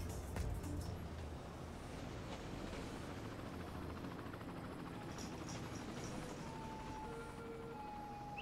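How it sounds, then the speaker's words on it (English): A passenger helicopter flies over the city in the game Cities: Skylines, with a continuous rotor and engine rumble mixed with city ambience, faint and steady throughout. A few soft tones rise now and then. "Here comes one of the passenger helicopters."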